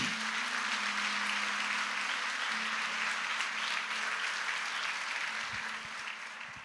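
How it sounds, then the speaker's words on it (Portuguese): A church congregation applauds the Lord during a sermon, a steady, dense wash of clapping from a large crowd that holds evenly throughout with a faint low tone beneath. "alguém pode aplaudir ao Senhor?"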